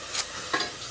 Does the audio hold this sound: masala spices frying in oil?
yes